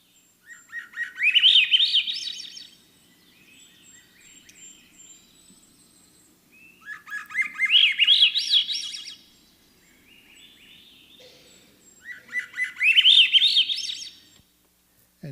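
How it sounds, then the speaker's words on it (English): Swainson's thrush singing three spiralling, upward-rising flute-like phrases, each about two seconds long, separated by quiet gaps; clear and fairly close, with faint background hum and no voices. "here's a common resident of the upper campus in the summer,"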